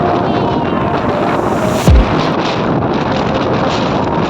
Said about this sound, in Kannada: ಗಾಳಿ ಎಷ್ಟೈತೆ ಅಂತೇಳಿ